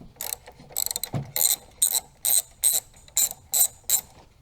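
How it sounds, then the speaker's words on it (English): A ratchet wrench loosens the clamp nuts on a car battery, giving about eight quick evenly spaced bursts of sharp clicking, close and loud, with a single low knock near the start. "So we need to unscrew the nuts to release the battery clamp so that we can pull the battery off."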